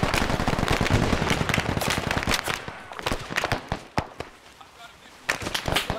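Gunfire in the Vietnam War video game SOG: Prairie Fire, with rapid automatic bursts and scattered single shots crackling close by, a brief lull, then more firing, while players talk over radio.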